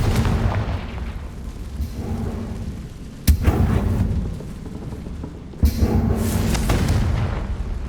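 Confringo blasting spell exploding in the video game Hogwarts Legacy: two sharp booming bursts, the first about a third of the way in and the second later, each with a short rumbling tail over a low ambient game background.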